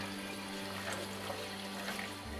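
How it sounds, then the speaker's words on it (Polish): Cold tap water runs steadily over rice in a sieve, a continuous close hiss and splash with no voices. "ryż przesypujemy do siczka i dobrze płuczemy pod bieżącą zimną wodą"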